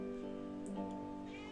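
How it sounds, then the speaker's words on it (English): A cat meows softly, a drawn-out tonal cry over a steady background hum, with no talking. "there's a cat meowing."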